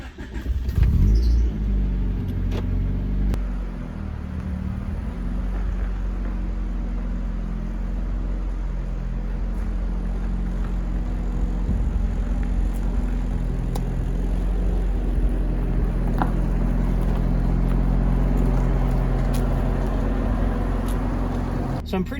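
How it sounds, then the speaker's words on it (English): A car with DIY four-wheel steering and no rear sway bar hums and rumbles steadily on a test drive, with low road noise throughout and occasional clunks; someone talks briefly early on. "take this car for a test drive"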